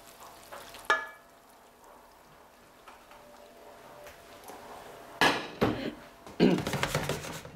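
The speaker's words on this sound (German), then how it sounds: "Und jetzt geben wir die heiße Marinade darüber." Hot marinade poured from a pan over shredded cabbage, peppers and onions in a bowl for coleslaw, heard as a short burst of splashing and clattering pours near the end after a quieter stretch, with no talk.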